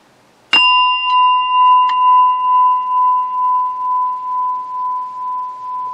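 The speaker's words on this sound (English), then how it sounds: "I gotta polish my meditation bell." A meditation bell is struck once and then touched lightly twice more, and a long pure tone with a slow pulsing shimmer rings on close and clear for several seconds as it slowly fades.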